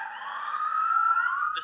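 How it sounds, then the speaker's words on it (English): A police siren wails steadily at close range, its rising and falling tone sustained throughout as part of TV news coverage of officers responding to an emergency, with no talk over it. "The siren started wailing at around 1 o'clock this afternoon"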